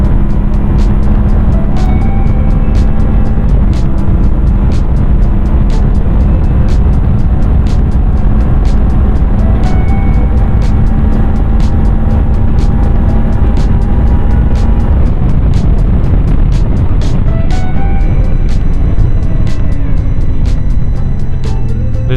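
A CFMOTO 450 MT adventure motorcycle ridden at high speed on the road, its steady engine drone under heavy, continuous wind rush for the whole stretch, engine note shifting slightly near the end.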